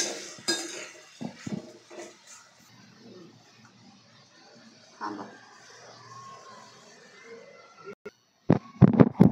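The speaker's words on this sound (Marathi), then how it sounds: "ती मटकी घालायची याच्यामध्ये, याला मिक्स करायचं आहे चांगलं।" Washed matki (moth beans) stirred with turmeric and salt in a pot, a few clinks and scrapes of a spoon against the metal, loudest at the start and end, with soft speech between.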